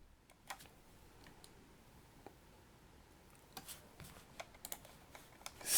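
Quiet, sparse typing on a computer keyboard, scattered soft clicks with a small cluster of keystrokes toward the end, no voices.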